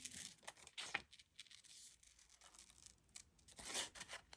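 Scissors cut a paper printable for a fabric journal pocket in quiet, close, intermittent snips and rustles, with brief pauses between the cuts.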